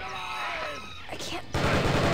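A turret in the video game POSTAL opens up in a dense, rapid burst of automatic gunfire that starts suddenly and stays loud and continuous to the end.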